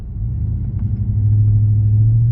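A 2018 Chevrolet Silverado 1500 LT Z71 pickup idles and starts moving with a low, steady engine rumble that grows slightly louder, heard from inside the cab.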